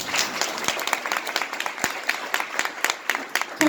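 An audience at an award speech event breaks into applause, a moderately loud patter of many hands clapping with some sharper individual claps standing out, with a faint voice underneath.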